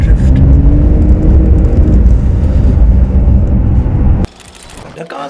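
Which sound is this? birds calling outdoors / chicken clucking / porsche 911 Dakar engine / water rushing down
porsche 911 Dakar engine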